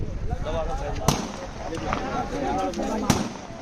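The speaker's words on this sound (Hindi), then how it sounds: "पहाड़ों से घेरते हुए ये गोली फायरिंग होती हुई" Sharp cracking shots, likely gunfire, ring out among hills during a riot, with two loud bangs standing out over a continuous din of crowd noise and voices.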